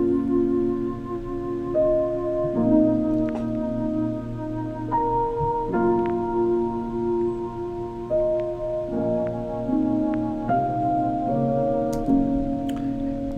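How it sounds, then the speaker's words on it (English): A deep, breathy flute line layered under a beat in Logic Pro X, holding sustained low notes that step between pitches with soft percussive ticks, playing alone at moderate loudness. "I layered that up with a flute, just a deep flute underneath."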